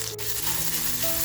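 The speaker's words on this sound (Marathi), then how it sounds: "तेल छान टाकले, कांदा टाकते." Onion drops into hot oil in a pan, producing a brief, close, steady frying hiss.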